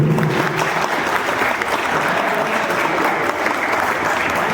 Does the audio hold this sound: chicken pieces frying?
no